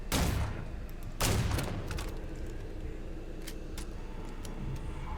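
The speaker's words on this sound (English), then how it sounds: "It's a freaking turret." Turret fire in Starfield sounds as two heavy bursts near the start, followed by scattered fainter sharp shots and a steady rumbling background.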